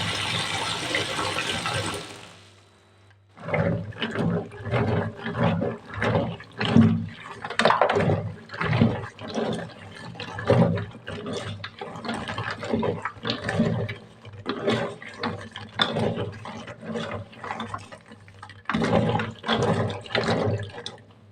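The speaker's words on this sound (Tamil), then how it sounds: "2-3 டைம் நல்லா வாஷ் பண்ணி எடுத்துக்கலாங்க." Raw groundnuts being rinsed by hand in a bowl of water, repeated sloshing and swishing bursts close up, steady and fairly loud after a short gap near the start.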